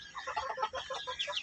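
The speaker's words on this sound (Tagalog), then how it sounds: "ang laking manok din to guys" A month-old chicken on a backyard farm clucks softly in a quick, steady series of short calls, close by, with a faint low hum underneath.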